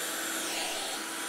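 Window cleaning in the renovation game House Flipper: a steady, airy hiss of cleaning runs without a break for just over a second, with nothing else heard.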